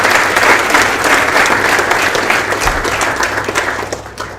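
Audience applause at a South African tag rugby capping ceremony: steady, dense clapping from a crowd, loud and sustained throughout, with a low hum underneath.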